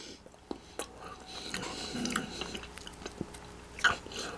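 Close bites and chewing on crunchy pepperoni pizza snack rolls, a few crisp crunches followed by soft, quiet mastication with small clicks, no talk.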